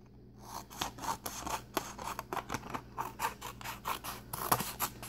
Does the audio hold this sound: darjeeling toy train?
no